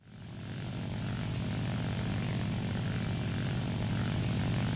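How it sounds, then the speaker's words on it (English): A J7W1 Shinden propeller fighter climbs in the War Thunder game, its engine and airscrew giving a steady, loud drone that rises at the start and then holds even. "So we're trying to climb in this plane"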